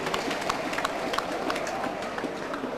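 A football crowd at Plymouth Argyle v Exeter City in 1996/97 applauds and cheers, a broad, busy roar of clapping with scattered sharper claps, steady and distant-sounding throughout.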